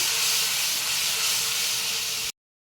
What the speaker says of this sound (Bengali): আমি এবার মশলাটা দিয়ে দিচ্ছি মশলাটা আমি বেশ কিছুক্ষণ কষিয়ে নেব